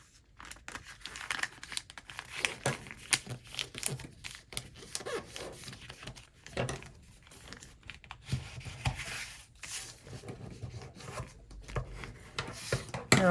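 A paper bag is folded and flattened for a junk journal, with continuous close crinkling, crumpling and rustling in uneven bursts and pauses, no speech.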